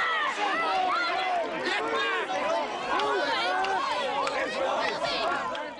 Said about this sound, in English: police tried to beat back the surging crowd